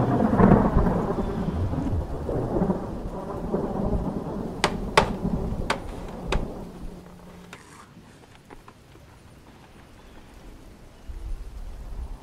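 Heavy rain pours steadily with rumbling thunder and several sharp cracks, the downpour loud at first and easing toward a quieter, steady patter.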